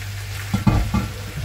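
Sausages frying in a pan with their juice, stirred with a couple of close, thudding scrapes over a steady sizzle.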